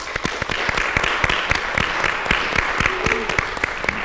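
A live audience at an opera singer's evening event applauds the livestream crew, a sustained wash of dense clapping with sharp individual claps standing out, steady and fairly loud throughout.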